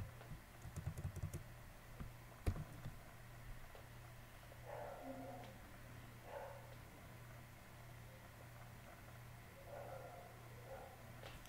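A few quick keystrokes on a computer keyboard at the start, faint and clicky, followed by quiet room hum and a dog barking faintly in the distance.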